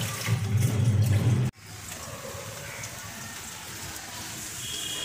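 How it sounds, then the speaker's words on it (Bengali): Light drizzle falls steadily on a winter morning, a soft even hiss that continues alone after a louder low rumble cuts off abruptly near the start. "আজ বৃষ্টি হচ্ছে, অবশ্য অল্প অল্প পড়ছে"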